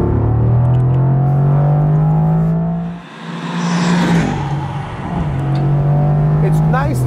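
A 2021 Mercedes-AMG GTR rolling along slowly, its low engine drone steady and close, dipping briefly mid-way before resuming with a soft whir.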